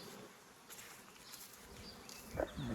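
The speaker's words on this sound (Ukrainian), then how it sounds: "Бджілка сидить у магазині. Непогано сидить." Honeybees crowd inside a beehive super. A faint, steady buzzing hum stays close and low throughout, with a slightly louder swell near the end.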